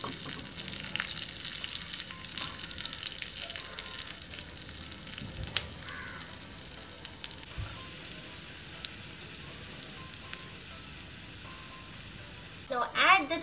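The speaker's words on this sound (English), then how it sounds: "Now saute." Chopped chilies and ginger sautéing in a small pan, a faint, steady sizzle that runs throughout, with occasional light taps and stirs and a brief louder scrape near the end.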